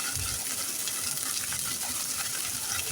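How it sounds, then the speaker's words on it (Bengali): Garlic, ginger and cumin paste fries in a pan for a pangas fish curry, giving a dense, even hiss with soft stirring underneath. It runs continuously and no one speaks. "ভালো করে নেড়ে চেড়ে কষিয়ে নিতে হবে।"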